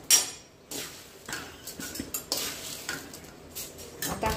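Chivda snack being tossed with masala by hand in a bowl, giving dry rustling and crunchy scraping in irregular bursts with occasional light clinks, close and moderately loud.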